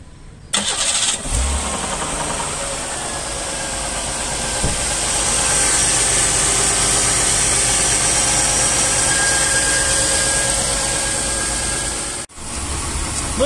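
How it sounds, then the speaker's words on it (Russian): A car engine cranks and catches after an oil change, then settles into a steady, even idle that holds loud and close for over ten seconds before a brief dip near the end. "заводим машинку и тарахтим с полчасика"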